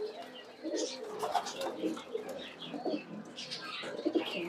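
Fancy pigeons at a home pigeon farm, including red and yellow birds, coo softly and repeatedly in low rounded bursts, with faint chirps from other birds over steady background noise and no talking.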